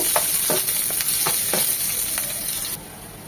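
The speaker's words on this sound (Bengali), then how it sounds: "রান্নার জন্য দিয়ে দিচ্ছি 3 চামচ সয়াবিন তেল, একটা বড় সাইজের পেঁয়াজ কুচি।" Chopped large onion fries in three spoons of soybean oil, giving a steady close sizzle broken by several sharp crackles and spatters, with no talking.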